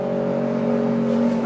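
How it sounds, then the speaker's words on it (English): A loud scooter with no exhaust drones steadily close by at high revs, a harsh buzzing engine tone that fills the whole moment without any talk. "wide open, no exhaust having scooter thing. That was noisy for no reason"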